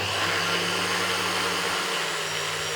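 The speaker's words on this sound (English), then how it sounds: "I don't love desiccated coconut in everything, so I'm just grinding it." A food processor grinds desiccated coconut with a steady, loud motor whir and a gritty rushing texture that continues without a break for the whole stretch, with no voices over it.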